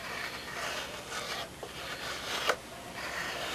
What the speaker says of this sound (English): even finer than that with a sanding block, that nice big sanding block